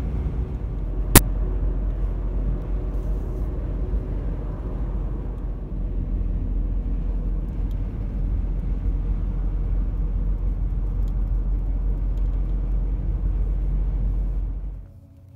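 Car driving along a road in northern Arizona near the Nevada border, a steady close interior road rumble and tire hum with one sharp click early on, fading out at the end.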